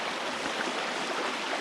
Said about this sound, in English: It didn't take long before I ran to a creek